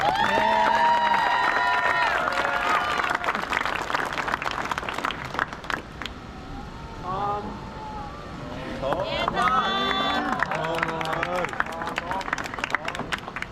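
A crowd at a Newark senior night claps in a steady, dense burst, with people's voices talking and calling out over and between the applause throughout.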